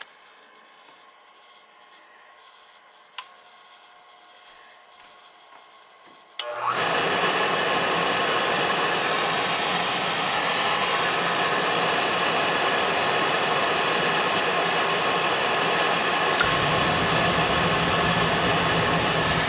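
A Beckett oil burner on a Peerless oil boiler kicks on after a couple of clicks, settling into a loud, steady roaring whoosh that carries on without a break, no voices.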